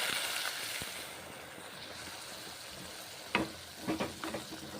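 Bitter gourd cooks in a pan with salt, turmeric and water, giving a soft, steady bubbling sizzle, then a few sharper scrapes and knocks of stirring near the end, close up without speech.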